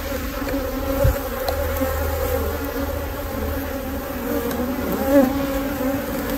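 Honey bees buzz steadily and close by as a beehive is split using supersedure queen cells, a dense continuous drone with slight swells in loudness and no voices.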